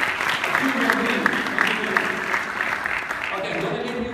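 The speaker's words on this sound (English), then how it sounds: "Give them a big round of applause." Applause from a Toastmasters workshop audience: a steady, dense patter of clapping that carries on without a break, heard up close in a room, with a voice talking over it.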